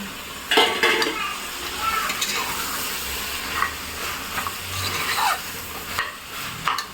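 Vegetables and potatoes sizzle in a hot pan while a utensil scrapes and stirs, with occasional clinks of metal against the pan, close and continuous.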